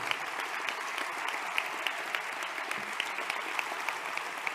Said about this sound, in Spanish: Quiero pedir también un aplauso para los compañeros italianos.